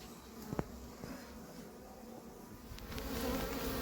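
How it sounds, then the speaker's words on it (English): Steady buzzing of many scout honeybees at a top-bar hive entrance, close and continuous, with a brief sharp knock early on and the hum swelling slightly toward the end. "you can tell they're scout bees because they don't behave like foraging bees"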